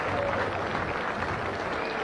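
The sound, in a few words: crowd applause as Island Games athletes enter the grounds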